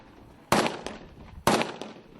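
Two sharp, loud cracks about a second apart, each trailing off in a short echo, come from Kalashnikov rifles firing single shots at an outdoor military training range.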